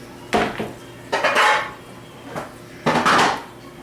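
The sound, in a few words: baking trays being handled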